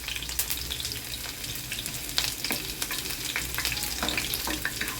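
Chopped onions and whole cumin seeds sizzle and crackle steadily in hot oil in a pan for a tadka, with bright popping bursts and occasional stirring, no voices.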